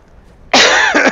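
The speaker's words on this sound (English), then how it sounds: "As I cough up a lung, I shall say." A single close, loud cough from a person, a sudden harsh burst with a second short rasping push, following a moment of near quiet.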